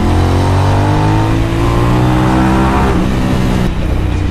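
A vehicle pulls away with instant torque, its engine tone climbing steadily as it speeds up, loud and close, with no voices over it.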